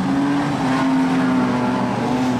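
Production sedan race cars at Kingaroy Speedway, a dirt speedway heat race, roar steadily at close range with a sustained engine drone and a constant low pitched tone throughout.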